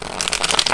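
A tarot card deck is riffle-shuffled, giving a brief, soft, crisp flutter of cardstock that stands alone.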